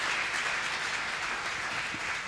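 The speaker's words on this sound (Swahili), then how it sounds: "Tupigie pastor makofi na paketi." A church congregation applauds the pastor with steady, sustained clapping that fills the room evenly from start to finish.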